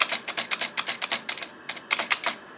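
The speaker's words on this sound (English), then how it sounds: "But listen to the space bar here. It sounds sloppy, right?" Keys clack on an old Atari 8-bit computer keyboard with a loose, sloppy space bar, a close, rapid series of about twenty sharp clicks in uneven bursts with a brief pause midway, no voices.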